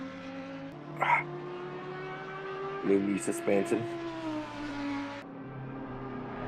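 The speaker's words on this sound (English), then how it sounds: "Absolute rocket ship down the straights. Just the Audi engine just screaming." An Audi race car in a sim racing game at Zolder screams through high revs, with rising and falling engine tones and shifts, under a commentator's voice.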